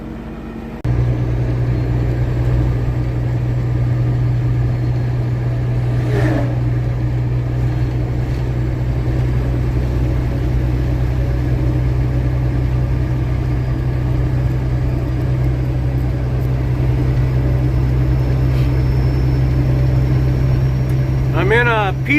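Peterbilt truck with 8-inch pipes, 18-speed transmission and Caterpillar 3406 engine idling, a steady deep low rumble starting after a second and running continuously, close and loud, with a brief higher whine near the end.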